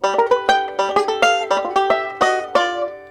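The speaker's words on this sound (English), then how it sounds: "this descending chicken picking type lick, I guess you could call it" A banjo plays a bright descending chicken picking lick, with crisp, evenly spaced plucked notes ringing alone and close.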